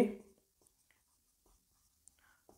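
During a maths lesson on percentages, numbers are written on a board in faint, sparse scratching strokes with quiet pauses between them, after a short bit of voice at the very start.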